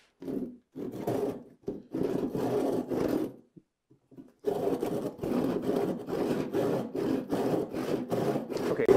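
A hand saw crosscuts a wooden board to deepen the kerf. Rhythmic rasping strokes come close and clear. Several strokes run, then a short pause with a few light taps, then a faster steady run of back-and-forth sawing.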